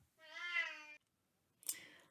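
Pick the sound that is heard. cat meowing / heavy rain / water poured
cat meowing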